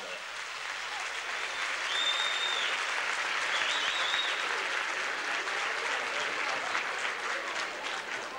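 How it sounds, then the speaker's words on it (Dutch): Applause at a 1986 Dutch artists' gala for Julio Iglesias and Willie Nelson: a large theatre audience clapping in a dense, sustained wash that holds steady throughout. "Dames en heren, geef nu maar een applaus voor Julio Iglesias en Willie Nelson."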